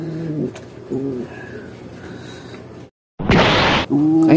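A pigeon coos close by in soft, low, repeated phrases, and a short burst of rustling or flapping noise interrupts partway through.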